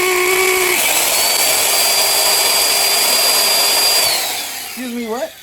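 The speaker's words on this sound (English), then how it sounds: "I wish you would have told me that your drill sucked." A power drill motor spins up into a steady high whine, holds for about three seconds, then winds down, with no clear speech.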